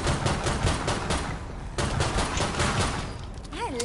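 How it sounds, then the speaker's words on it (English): Dense, rapid gunfire from the video game Killing Floor 2, loud and continuous with bursts of automatic fire throughout, plus a brief synthetic warbling tone near the end. "I like shooting them."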